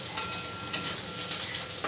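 Red onions fry in a pan, a soft, steady sizzle heard up close with a few faint stirring clicks over about two seconds.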